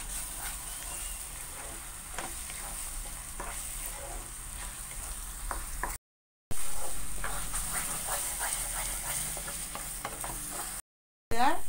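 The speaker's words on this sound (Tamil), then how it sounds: "நல்லா மிக்ஸ் பண்ணிக்கோங்க." Jackfruit halwa cooking in ghee in a pan sizzles steadily while a spoon stirs it with soft scraping strokes, the sound broken by two brief silent cuts.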